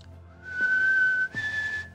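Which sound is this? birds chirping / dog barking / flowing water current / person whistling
person whistling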